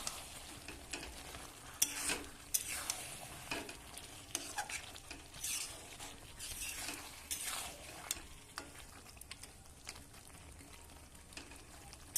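Mutton and young jackfruit frying in a pan, a loud continuous sizzle with repeated scraping strokes as it is stirred, close up and with no voices.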